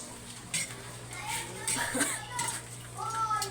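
A spoon stirs dinner food in a cooking pot, with soft scrapes and clinks of metal against the pot, while voices talk nearby.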